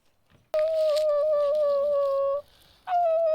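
A cat, Oreo, lets out a long sustained meow-howl lasting about two seconds, followed by a short second cry, close and fairly loud in a quiet indoor space.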